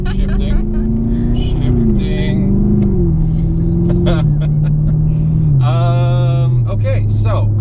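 A Chevrolet Camaro V8 with a manual gearbox drones steadily from inside the car, its pitch stepping through gear changes while people talk over it.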